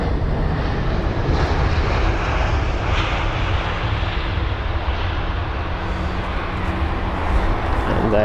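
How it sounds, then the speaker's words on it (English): A Turkish Airlines Boeing 777 at Heathrow spools up an engine, a broad steady jet rumble and whine filling the air at a distance, with a voice talking over it. "Just about can hear the engine startup of the obviously the other engine on board the Turkish 777."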